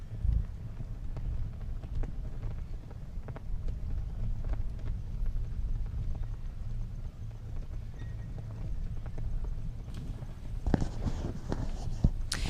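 A 9-year-old mare's hooves thud and clip-clop across the arena in a 1.45 m CSI 5* show jumping round, steady rhythmic beats under outdoor wind noise with a few sharper knocks near the end.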